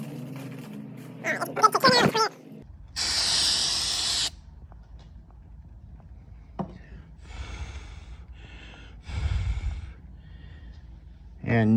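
Short hissing bursts of spray glue onto a subwoofer speaker cone while swapping a DD Audio 9500 series 15-inch subwoofer to 12-inch parts, two or three distinct sprays separated by handling noises and quiet gaps.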